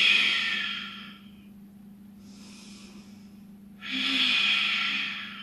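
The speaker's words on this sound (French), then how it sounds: "Respiration Ujjayi" Slow Ujjayi breaths during a beginner vinyasa flow yoga class, a long hissing exhale that fades, a quiet pause, then a strong airy inhale through the throat, close and soft with no talking.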